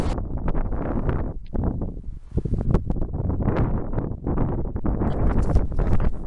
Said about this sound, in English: I know it's really windy at the moment